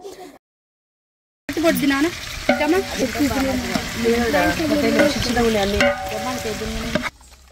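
Chicken leg pieces, mixed with ginger for a curry, sizzle loudly in a hot pan while being stirred and scraped, close up, for several seconds after a brief silence.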